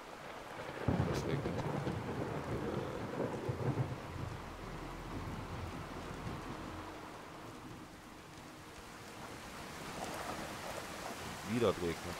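In the video game Fallout 4, steady rain hisses over a rumbling thunderstorm, with deep rolls of thunder swelling and fading. A sharper crack arrives near the end, and the storm carries on throughout.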